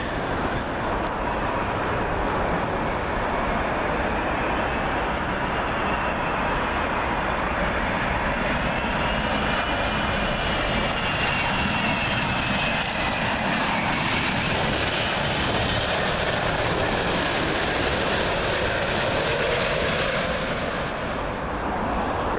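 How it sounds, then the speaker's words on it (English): An Etihad Airways Airbus A380 from Abu Dhabi comes in to land on runway 27L at Heathrow, a loud sustained jet roar with a rising and falling whine that sweeps past over more than twenty seconds, close and dominant. "Next up, we got another A380, this time Etihad Airways. This one arriving in from Abu Dhabi"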